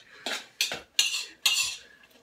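A spoon mixes a quinoa and black bean salad in a bowl, four separate scraping, clinking strokes in a steady rhythm, close and fairly loud with no talk.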